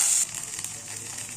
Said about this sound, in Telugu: ఇందులో కొంచెం వెల్లుల్లి వేసుకొని బాగా ఫ్రై చేసుకోవాలి.